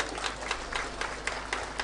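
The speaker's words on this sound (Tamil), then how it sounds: "குழந்தைகளை அழைத்து கொண்டு வந்த பெற்றோர்களுக்காக ஒரு சிறப்பான கைத்தட்டல் முதல்ல கொடுங்க" Audience applause for parents who brought their children to a book fair, a steady patter of many hands clapping at moderate distance, with faint rhythmic peaks throughout and no clear talk over it.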